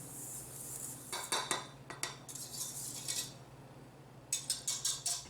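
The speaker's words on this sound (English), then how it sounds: "it's very important to whisk the dry ingredients in advance" A whisk stirs flour and other dry ingredients for red velvet cake batter in a bowl, giving quiet, scattered metallic scrapes and clinks that end in a quick run of rhythmic taps, with a low steady hum in the background.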